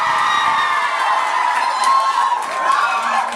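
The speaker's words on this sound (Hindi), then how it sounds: "भरपूर शोर और तालियां।" Students at an Independence Day celebration cheering, shouting and whooping as a dense, loud crowd roar with high-pitched voices and clapping mixed in, sustained throughout.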